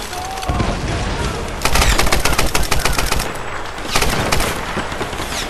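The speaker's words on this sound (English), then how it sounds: "Suppressing fire!" Tomb Raider 2013 gameplay gunfight: a dense burst of rapid automatic fire rattles for about a second and a half, then a second shorter volley follows, over a constant noisy background.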